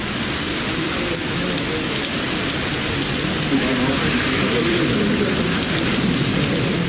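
Heavy rain pours down in Chennai during a storm with strong gusty wind and thunder and lightning, a dense, steady roar of downpour that stays loud and unbroken throughout.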